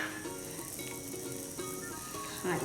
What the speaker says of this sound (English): Yes, hear the sizzling.